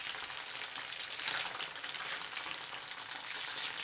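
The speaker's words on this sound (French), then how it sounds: "Je les fais frire dans un fond d'huile de tournesol." Tofu slices frying in a shallow layer of sunflower oil in a pan, a dense, steady crackling sizzle with fine popping, close and continuous.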